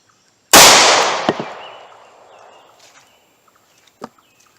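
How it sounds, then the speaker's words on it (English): A single sharp, loud .38 Special shot from a pocket pistol firing a Winchester Silvertip into wooden boards, its report decaying into a long outdoor echo, followed by a faint metallic clink and a small knock. "Alright, 38 Special versus wood."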